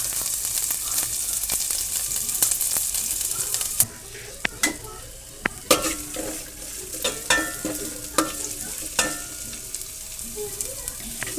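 Onions and green chillies sauté in a pan for a Palakkad-style bitter gourd and dried prawn curry, giving a steady close sizzle with scattered scraping clicks of a spoon stirring, softer after a few seconds.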